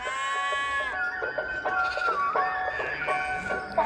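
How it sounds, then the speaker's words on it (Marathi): A large flock of sheep bleat in overlapping, wavering cries in the morning at an open-air camp in Jadhavwadi, Pune district, fairly close, one after another with barely a pause, over faint outdoor background noise. "खूप मेंढ्या आहे मित्रांनो"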